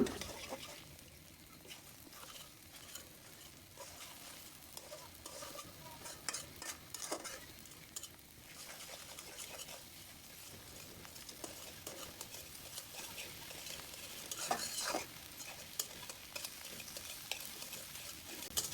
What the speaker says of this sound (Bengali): ডিমগুলা কুচি কুচি করে নিব এখন